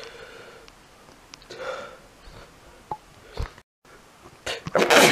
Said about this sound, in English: the sneezes are quite, you know, hard.